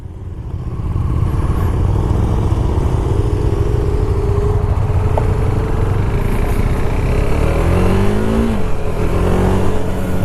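A KTM Duke 390 motorcycle engine revs steadily while riding, its single-cylinder drone rising and falling in pitch with wind rush, loud and close throughout with no voices.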